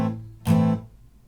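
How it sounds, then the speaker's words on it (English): A single guitar downstroke rings briefly and is choked off by the hand almost at once, leaving a short, clipped staccato strum in near silence. "So I strum it and then I mute it with my hand."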